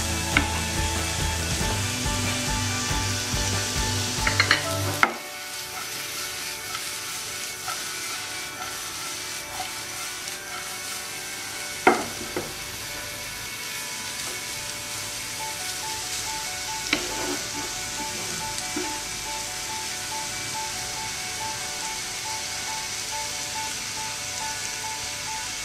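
Grated carrots fry in a pan for a carrot semai dish, giving a steady soft sizzle and hiss that runs the whole time, with a few louder stirring clatters and a busier burst near the start.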